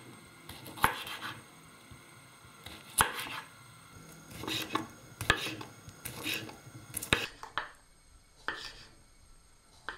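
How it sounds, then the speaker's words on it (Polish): A knife slices sausage (kiełbasa) into medium-thick rounds on a cutting board, made as a series of distinct, close chopping strokes in small groups with short pauses between them, and no talking. "Kiełbaskę kroimy w takie plasterki, niezbyt grube, ale też niezbyt cienkie."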